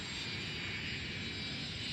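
Airplanes fly overhead in the city-building game Cities: Skylines, a steady broadband engine roar that holds evenly throughout without talk.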